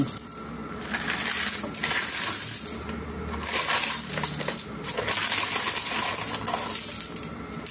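Coins and folded paper bills poured out of a heavy savings container, a dense continuous metallic clatter and jingle of many coins tumbling out together for several seconds, loud and close with brief pauses.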